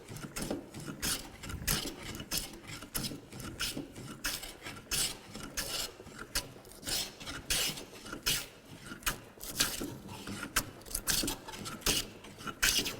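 A hand plane with a greased sole shaves square wood stock in repeated rasping strokes, a steady run of close, fairly quiet passes with short gaps between them.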